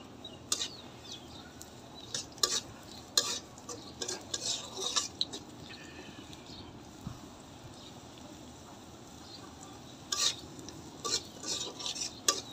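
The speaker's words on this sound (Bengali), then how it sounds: "তো পেঁয়াজটা একটু আমি বাদামি কালার করে নিব।" Chopped onions, salted, browning in a pan for a dima shak (greens) dish, stirred with a utensil that gives scattered light scrapes and clinks over a faint, steady sizzle, with no talking.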